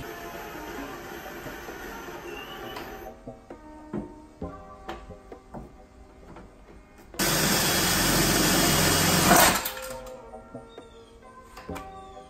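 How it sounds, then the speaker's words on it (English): A power drill bores holes into a fender, one loud, steady whine of about two seconds rising out of quieter clicks and handling noise nearby. "I'll go ahead and drill the rest of them before I finish it off"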